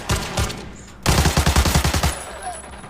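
Gunfire in the shooter game Arena Breakout: a single shot, then a rapid close burst of automatic fire lasting about a second, loud and sharp.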